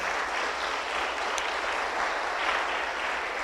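A church congregation applauds during a sermon, a continuous even wash of many hands clapping at moderate volume, slightly distant and diffuse, with no voices standing out.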